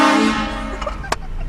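A train horn mounted on a vehicle blasts loudly as a prank, a strong sustained tone that fades out over about a second, followed by faint background noise and a brief sharp sound.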